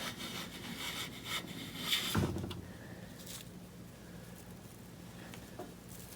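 A restored 1970s Stanley hand plane shaving a wooden board, with a few close rasping strokes in the first two seconds and then a quieter scrape trailing off into faint background noise.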